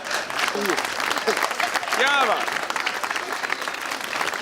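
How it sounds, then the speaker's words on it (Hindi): Studio audience applause on a Pakistani TV comedy show, a dense steady patter of clapping running under an enthusiastic male host's voice and exclamations throughout. "तालियां बजाए यार"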